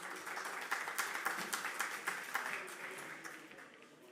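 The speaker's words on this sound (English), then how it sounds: "Let's give a round of applause." Scattered audience clapping at a conference pavilion session on carbon trade, distinct individual claps building into a brief round of applause that thins out toward the end.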